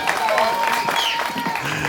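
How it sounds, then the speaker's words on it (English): Wedding guests applaud the bride, a steady wash of clapping filling the room throughout, with voices mixed in beneath it. "I think she just deserves a round of applause, but you already gave her one"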